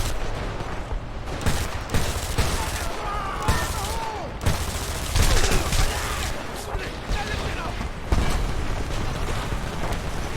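Gunfire from the video game Homefront: dense, loud bursts of shots and explosive cracks in irregular volleys over about ten seconds, with battlefield noise and game voices mixed in.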